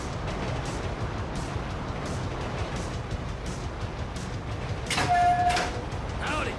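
A train rumbles along in Grand Theft Auto 5, a steady mechanical drone with clanking and a brief squeal near the end.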